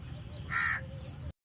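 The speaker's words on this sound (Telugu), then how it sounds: "ఇంకోటి కాకులు చూసారా, ఏవో పెడుతున్నాను అనుకుని వచ్చేస్తున్నాయి పాపం" A crow caws once, loud and nearby, in a home garden where hibiscus plants are being fertilised. A faint outdoor background sits under the call.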